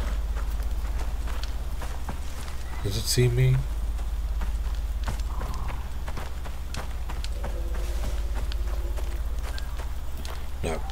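Horse hooves clop faintly in the survival game ICARUS, a scattered run of light footfalls over a steady low game hum, with someone briefly speaking partway through.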